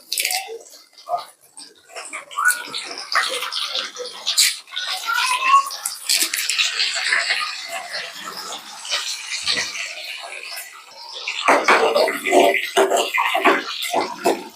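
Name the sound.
shallots frying in oil with mustard seeds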